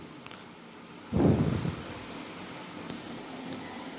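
Quiz countdown timer giving paired high electronic beeps at a steady pace over a faint hiss, with a brief muffled thump partway through.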